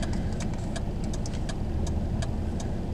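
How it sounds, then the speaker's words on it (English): Steady rumble of several car engines in a lane of traffic as vehicles begin to roll forward, with light ticking on top, continuous and fairly close. "All of the cars start moving."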